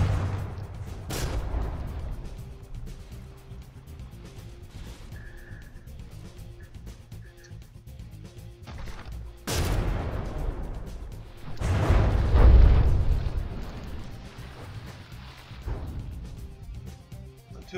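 Naval cannon artillery fires during a From the Depths battleship tournament match, with scattered booming shots and a few louder heavy blasts rising over continuous low rumbling battle noise.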